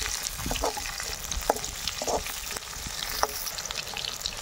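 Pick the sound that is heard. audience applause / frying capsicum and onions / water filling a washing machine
frying capsicum and onions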